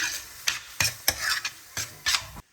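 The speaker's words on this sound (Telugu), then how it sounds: "ఒక హాఫ్ స్పూన్ గరం మసాలా పొడి వేసుకుని ఇలా మిక్స్ చేసుకోవాలి" A spoon scrapes and stirs through frying tomatoes with garam masala and coriander powder, about seven distinct close strokes over a soft sizzle before it stops abruptly.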